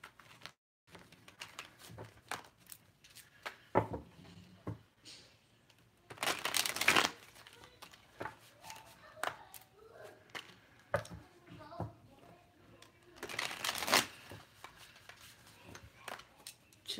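Tarot cards being shuffled in a daily reading, giving bursts of crisp riffling and papery slaps, with two louder shuffle flurries standing out among softer handling sounds and no talk.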